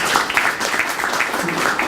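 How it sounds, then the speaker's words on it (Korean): A crowd at a startup event session gives a short round of applause, a thick, steady patter of many hands with a voice briefly over it. "박수 한번 주세요."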